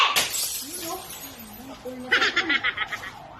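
Drinking glasses are smashed, with one sharp crash at the start, followed by voices and bursts of laughter.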